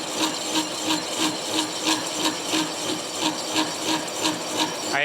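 A lathe cuts metal in a single pass with a carbide tool, producing a continuous harsh scraping grind with a regular pulsing rhythm, loud and close, with no voices.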